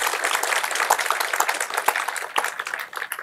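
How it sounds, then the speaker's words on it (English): Audience at a conference talk breaks into clapping, a moderately loud patter of many hands that thins and fades toward the end. "Can we have a huge round of applause"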